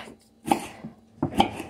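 Vegetables for calabacitas are chopped with a knife on a board in a home kitchen: two distinct, close chops about a second apart, each with a small clatter, in a quiet room.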